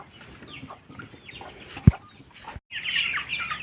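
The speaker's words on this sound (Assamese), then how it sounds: "এইখিনি মোৰ লোকেল মুৰ্গী।" Local chickens on a small broiler and poultry farm cluck and call close by in short bursts, with a sharp knock midway and a louder squawk near the end.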